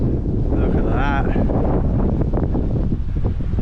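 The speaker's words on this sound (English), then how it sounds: "Another viewpoint, which is very windy though." Strong wind at a Queensland hiking viewpoint buffets the microphone in a constant low rumble, with a voice briefly speaking over the gusts.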